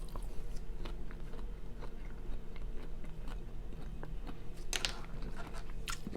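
Someone chews shrimp from a seafood platter right at the mouth, making soft repeated wet chewing and occasional crunchy bites with uneven timing and no talking.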